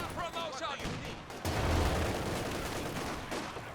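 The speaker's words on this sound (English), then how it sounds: "he's getting kind of lucky with these AT guns, penetrating almost every shot" Anti-tank guns fire in a World War II strategy game match against a Panzer IV, heavy booms with rumbling impacts and battle noise underneath, a commentator's voice running over the top.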